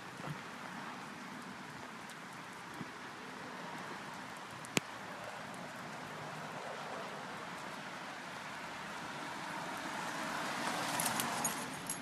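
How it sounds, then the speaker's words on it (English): Light rain falls outdoors near a fire academy, a soft continuous patter and hiss heard alone at low level, with one sharp tap midway and a brief swell of spatter toward the end. "It's raining."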